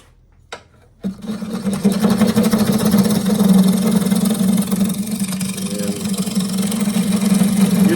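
A wood lathe hums steadily while a gouge takes very light cuts across end grain, starting after a brief quiet moment and then running continuously as a steady droning whir.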